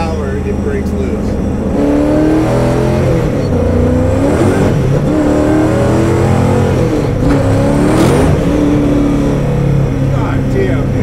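A Speedkore 1,650-horsepower Tantrum Dodge Charger accelerates hard, its engine roaring loudly and steadily with rising, shifting revs and traction breaking loose, as someone talks throughout from inside the car.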